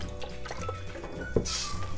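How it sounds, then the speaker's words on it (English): Water poured into a pot of potato and pea curry, a close splashing and gurgling fill with a brief sharper drip, steady for about two seconds. "We're gonna add some water."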